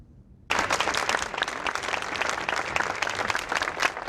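Applause from an audience at a White House event with President Reagan in 1987 breaks out suddenly after a brief quiet and continues steadily, a dense, sustained clapping from many hands.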